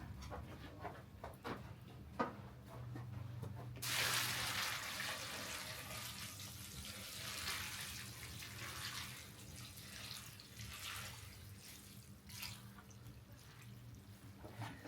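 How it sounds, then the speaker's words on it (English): Running water from a tap or hose poured onto horse stall bedding pellets to expand them, a steady broadband rush starting a few seconds in and continuing close by to the end, with faint rustling and a dog panting. "So I'm gonna go get some water and we're gonna expand these for a minute."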